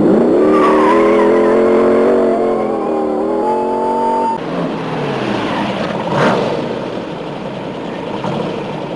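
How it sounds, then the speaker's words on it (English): A fast car with tuned suspension screams through an accelerating engine whine that climbs in pitch, then shifts gear as tires squeal on the road, loud and close with no talking. "Hey, this is one quick car."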